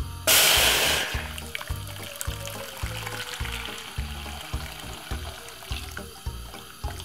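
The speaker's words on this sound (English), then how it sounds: "I'm gonna put 2 cups of boiling water." Boiling water pours from a kettle for green plantain porridge, a loud gush at first settling into a steady splashing stream with rhythmic glugging pulses, close by and with no one speaking.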